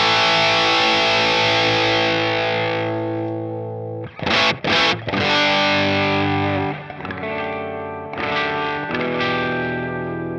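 Guitar played through a Danelectro Cool Cat distortion pedal with the gain turned down, a sustained overdriven chord that rings out, then a few quick choppy strums and another held chord, loud and close.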